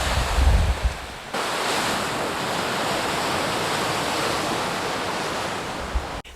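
Surf breaks on an Australian beach under steady wind, a broad continuous wash of waves with gusty rumble buffeting the microphone, loud and close throughout.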